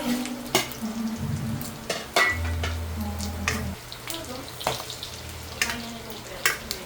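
Onion and garlic, added together with ginger, sizzle in a hot pan, with a steady frying hiss, a low hum, and occasional clinks and scrapes of a utensil stirring, close up.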